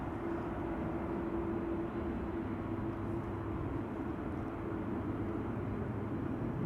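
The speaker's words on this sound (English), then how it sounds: "It sounds like I'm hearing a propeller-propelled airplane in the vicinity." A propeller airplane flies somewhere near Amsterdam Schiphol Airport, heard as a steady, fairly loud low drone with a constant hum that holds evenly throughout, with no voices.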